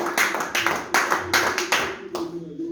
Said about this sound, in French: Applaudissons pour la gloire de notre Dieu Tout-Puissant.